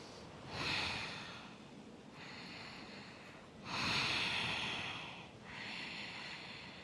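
Slow, controlled yoga breathing held during a backbend pose: about four long, airy inhales and exhales in a steady cycle, close and soft, with no talking.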